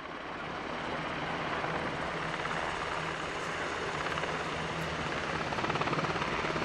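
Black Hawk military helicopters flying during an air show at the opening of a NATO air base in Kuçovë, Albania, a steady loud rotor and engine roar that persists throughout without voices.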